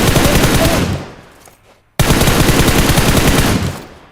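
Loud, sustained automatic gunfire in a video game, two long rapid bursts split by a brief drop to near silence, close and dense.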